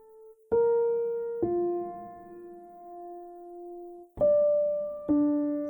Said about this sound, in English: this is again the soft piano